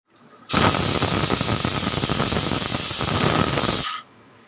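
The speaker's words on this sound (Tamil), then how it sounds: "நாலு விசில் வந்துடுதுங்க" A pressure cooker vents steam while cabbage sambar cooks, giving one loud, sustained hissing whistle that starts abruptly, holds steady for about three and a half seconds, then cuts off, heard alone without talk.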